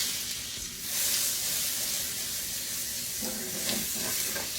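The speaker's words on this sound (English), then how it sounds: "I'm going to add about another tablespoon of butter. We're going to let that melt a little bit there." Butter melting and sizzling in a pan while sautéing zucchini, mushroom and onion, a steady close hiss with slight swells, low in level and without talk.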